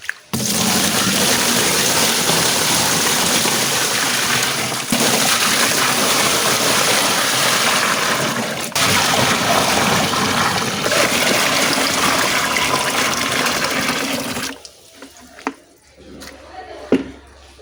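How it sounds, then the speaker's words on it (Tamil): Water pours steadily into a fridge box being filled for angelfish, a continuous gushing stream that runs loud and unbroken before cutting off and leaving quiet with a few small knocks. "இனி நம்ம தண்ணியை ஃபில் பண்ணிடலாம்."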